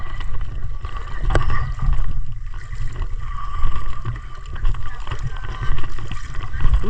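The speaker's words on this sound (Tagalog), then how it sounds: "balik na ulit sa bangka." A small boat moves across the water off Palawan, a steady low rumbling churn with splashing and gurgling water, while people talk nearby.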